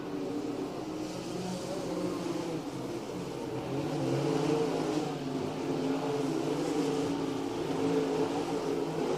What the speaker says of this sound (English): number 2R car, Michael Risky, one of the cars out there with a V6 in it.